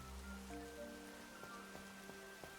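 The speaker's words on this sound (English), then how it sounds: "I was half waiting for the rain to stop as soon as I said that." Rain falling in a Pokémon game, a soft, steady patter faint beneath gentle background music with a few light drips.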